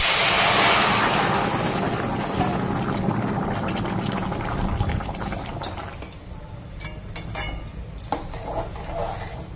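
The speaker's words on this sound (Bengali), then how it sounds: "এবার আমি এখানে বয়েল করে রাখা সবজিটা ঢেলে দেব।" Boiled vegetables go into a wok of hot oil tempered with whole cumin, a loud hiss that starts strong and slowly settles, broken by clinks and scrapes of a utensil against the pan.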